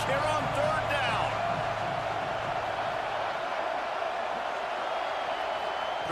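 An Auburn crowd making noise on third down in a college football game against Alabama: a dense, steady stadium roar running throughout beneath a commentator's voice.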